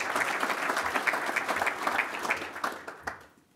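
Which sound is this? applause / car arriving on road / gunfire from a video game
applause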